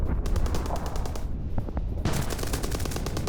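Sustained automatic gunfire during a Ukrainian fighting vehicle attack in news footage, loud and dense with rapid bursts, a short lull, then renewed heavy firing.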